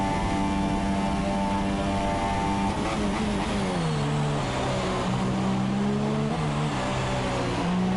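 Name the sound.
F2 car engine on a flying lap, racing video game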